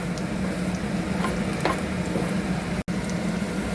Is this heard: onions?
yes